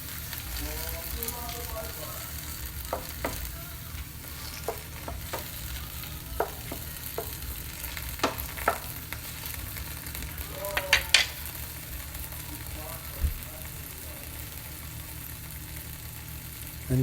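A shrimp mixture with thyme and rosemary simmers over medium heat in a pan, giving a constant close sizzle broken by scattered clinks and scrapes of stirring.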